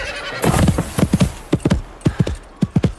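Several horses galloping across open ground toward a ravine, with a loud neigh and whinny up front and then a run of sharp, rhythmic hoof thuds, close and busy, with no talking.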